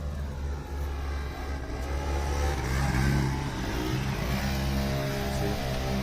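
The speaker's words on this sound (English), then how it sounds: "So you hear like mopeds." Moped engines revving and passing along a wooded walking path with traffic nearby, a steady droning motor rising and falling in pitch as it goes by, fairly close and continuous.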